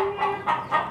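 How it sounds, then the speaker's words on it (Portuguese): Chickens cluck nearby on a small country farm where chicks are kept, giving a few short, moderately loud calls in under a second without any talk. "Você gostou de ver os pintinhos?"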